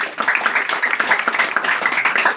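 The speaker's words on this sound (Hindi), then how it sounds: "एक बार सभी जोरदार ताली बजाइए।" A gathering honoring students who passed matriculation and intermediate exams on Yoga Day fills with steady, dense audience applause, many hands clapping loudly and continuously without a break.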